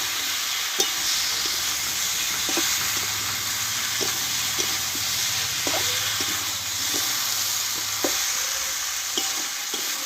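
Jackfruit curry with slit green chillies and chopped coriander stirred in a pan, a steady sizzle running throughout with scattered scrapes and taps of the spoon every second or so.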